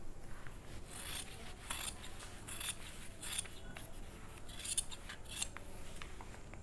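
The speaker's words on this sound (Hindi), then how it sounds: "ये तो ऐसे करके काटेंगे यहाँ से यहाँ तक" Scissors snip through nighty fabric on a tailoring table in a run of soft, repeated cuts, close but quiet, with no voices heard.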